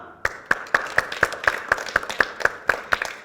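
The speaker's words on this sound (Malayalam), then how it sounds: "നല്ലൊരു ക്ലാപ്പ് ഈശോയ്ക്ക് കൊടുക്കാം." A congregation at a Christian prayer service claps in a brisk, even rhythm of about four claps per second, crisp and close, with no talking over it.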